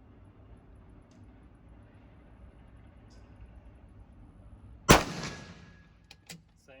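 One sharp, loud rifle shot from a 6BR Norma load test cracks out after quiet outdoor ambience, followed by a short ringing decay and a faint metallic clang.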